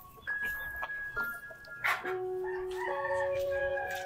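A rooster crows near a backyard chicken coop, its drawn-out calls rising and holding over about four seconds at moderate distance, mixed with other tonal background sounds.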